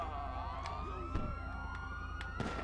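Police siren from the video game GTA V, a steady wailing tone sustained across the clip with a few sharp clicks and thumps from gameplay over it.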